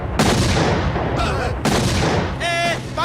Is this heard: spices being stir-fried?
no